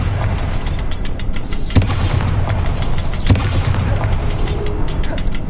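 In Hogwarts Legacy, the Bombarda spell sets off explosions: two distinct booming impacts over a dense, continuous layer of game sound.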